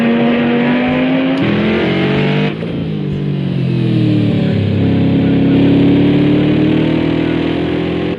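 A GT3 race car engine in Project Cars 2 revs loud and close, dropping briefly at a gear change before its pitch climbs steadily again as it accelerates.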